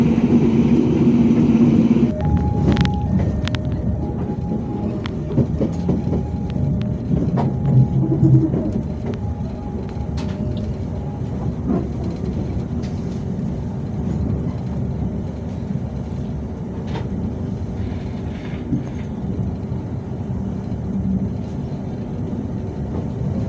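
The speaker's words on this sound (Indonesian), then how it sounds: "KA Singasari kembali diberangkatkan dari stasiun Wates, Yogyakarta jam 4:56 menit" The KA Singasari train departs Wates station in Yogyakarta with a sustained low rolling rumble, while brief repeated tonal signals sound near the start and then fade, with no talking.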